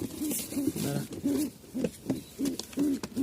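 Domestic pigeons, a breeding pair kept with two chicks, coo close by in a steady rhythm of low, rolling coos repeated about every half second.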